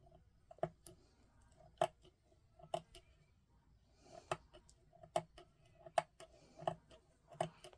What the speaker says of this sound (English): Now we have to snip it off.